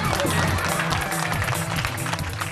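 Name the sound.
audience applause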